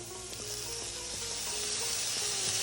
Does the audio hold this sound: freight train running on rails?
no